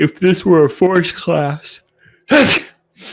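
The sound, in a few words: yawn sneeze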